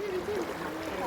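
Steady flowing water of the Ganga river, a continuous soft wash heard close by with no voices over it.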